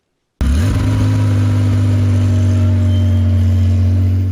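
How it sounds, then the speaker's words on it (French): Vintage rally car engines from the Monte-Carlo Historic Rally rumble steadily and loudly on the place d'Armes in Vitry-le-François, starting abruptly and holding a constant idle with no voices. "Le bruit de moteur de ces vieilles voitures résonne sur la place d'Armes de Vitry-le-François"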